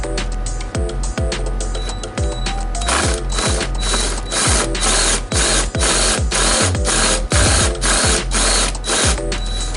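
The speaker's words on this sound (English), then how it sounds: "let's see if I can go ahead and get this screw in there now" A screw being driven into the driver door latch of a Chevy Blazer, with a loud, close mechanical ratcheting whir in rapid repeated bursts, briefly pausing before continuing steadily to the end.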